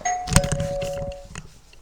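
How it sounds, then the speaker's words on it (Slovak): A home doorbell rings with a bright electronic chime tone that sustains for about a second over a clatter and background noise, with no speech. "Čakaj, niekto mi zvoní, musím ísť otvoriť."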